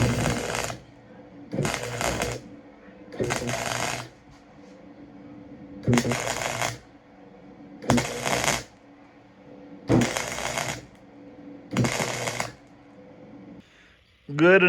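A flux core welder crackles and sputters in about seven separate bursts, each a few seconds long, while welding turbo headers, with quiet gaps between the bursts.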